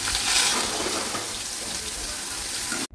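Cut pointed gourd (potol) going into hot oil in a pan, giving a steady loud hiss of frying that holds throughout and cuts off abruptly at the end, with no talking.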